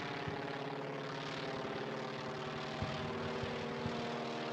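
A propeller airplane drones steadily overhead in the WWII-era Eastern Front game Combat Mission Red Thunder, a continuous low engine hum with a few faint distant thumps of gunfire beneath it.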